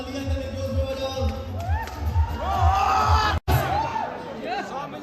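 A crowd at a stage show cheers and whoops with scattered claps, a lively mixed roar that swells and briefly cuts out before resuming, with voices throughout.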